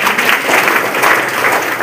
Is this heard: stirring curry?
no